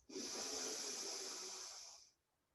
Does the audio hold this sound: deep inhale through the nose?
yes